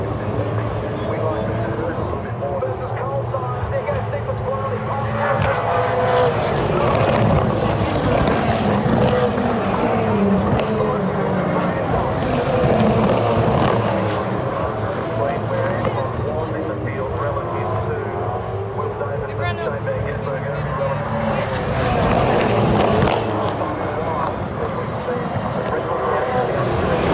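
V8 Supercars race cars roar past at the Sandown 400, a continuous loud engine drone rising and falling as cars sweep by, with trackside commentary running over the noise.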